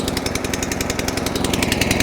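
The petrol engine of an Allett Kensington 17 lawn mower runs just after a pull start, a loud close rapid chugging beat that holds steady throughout.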